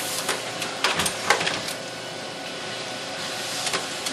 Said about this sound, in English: we're going to print off the 2 sheets of that nest